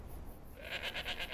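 A goat in Skyrim bleats in a quick wavering series of short pulses, fairly clear over a low background rumble.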